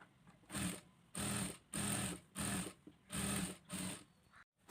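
An electric sewing machine stitches fabric for a modest-wear garment in six short, even bursts of rapid whirring with brief pauses between them, close and clear.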